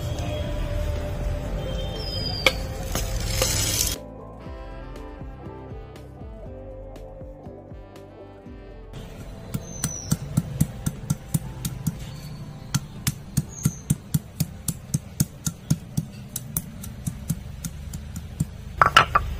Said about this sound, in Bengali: গোটা গোলমরিচ, গোটা জিরে, গোটা ধনে, আদা, রসুন, 2টো কাঁচা লঙ্কা বেটে নেবো একসাথে